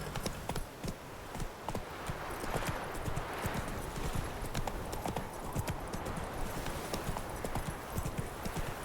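Roach the horse gallops in The Witcher 3, a rapid, continuous clip-clop of hooves held close and loud throughout.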